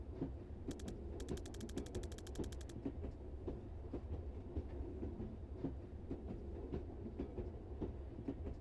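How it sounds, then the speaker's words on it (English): A subway train rides along in the video game Tactical Breach Wizards, a steady rumbling rail roll with rhythmic clickety-clack and creaks, plus a brief burst of rapid ticking early on. "Should we really be taking the subway at a time like this?"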